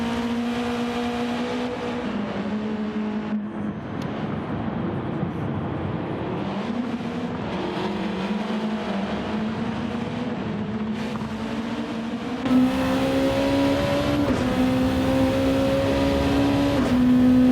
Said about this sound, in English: Enzo Jack serves his time penalty, heading down towards the long sweeping left-hander. We're on board with Smith